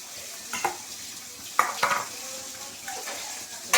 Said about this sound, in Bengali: পেঁয়াজটা ভাজছি, এবারে দিয়ে দেবো কড়ার মধ্যে